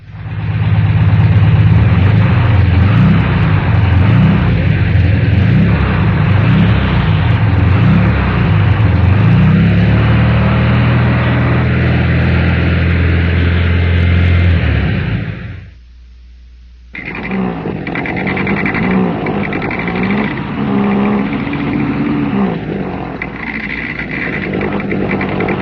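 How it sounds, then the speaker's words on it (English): A Volkswagen engine runs loud and close, first steady and smooth, then after a brief near-silent gap it restarts with an added rattling, uneven whir from a loose fan. "Now here's a normal engine, then one with a loose fan."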